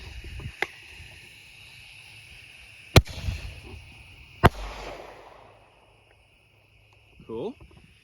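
Small consumer mini mortar shells from a mini bombs kit fire outdoors, giving a few sharp, fairly quiet pops spaced a second or more apart with short crackling tails, then near silence and a brief faint noise at the end.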